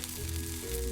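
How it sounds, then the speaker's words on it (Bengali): Potatoes for french fries frying in oil, a steady close sizzle holding through the whole second, with a low hum underneath and no voices. "ভাজতে দিব"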